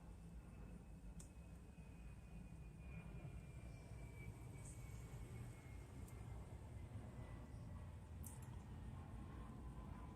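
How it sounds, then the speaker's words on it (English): Jet aircraft passing overhead, a faint, steady, distant roar spread across the whole stretch, with a thin high whine drifting slowly through it and no talking. "There's a jet flying over now."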